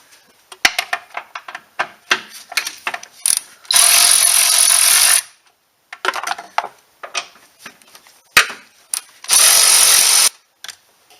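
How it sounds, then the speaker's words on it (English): Ratchet wrench backing out 10 mm screws on a Honda Civic during a transmission fluid and filter change, heard as repeated sharp clicking bursts with two longer continuous whirring spells, close up, no talking. "Now I'm gonna remove this screw here and this one here. Both are 10 millimeters."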